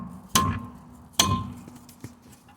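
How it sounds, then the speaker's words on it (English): Two sharp, loud hammer blows strike a seized front brake disc on a Saab 9-3 to knock it free, each with a ringing metallic decay, followed by a fainter clink near the end. "So I'm just going to get a hammer, whack it without damaging the face of the disc or anything."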